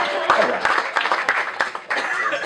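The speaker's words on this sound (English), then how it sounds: "Give yourself a round of applause." A comedy club audience at Theatre 99 claps and cheers in a dense, steady burst of applause that runs the whole stretch, with sharp individual claps poking through and a short dip near the end.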